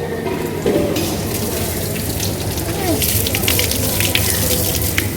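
Water runs from a tap as hands are washed at a temple dining area, a steady close rush with splashing throughout.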